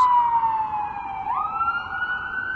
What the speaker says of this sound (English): I've got an ambulance.